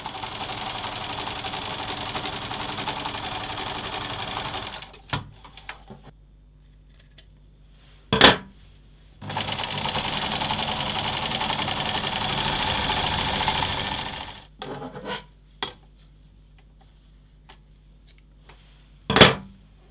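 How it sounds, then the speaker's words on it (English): A sewing machine top stitches a fabric dress strap in two long, steady runs, loud and close, with short gaps between them and a few sharp clicks and clacks in the pauses. "now we're going to do two lines of top stitching, one down either side of the strap"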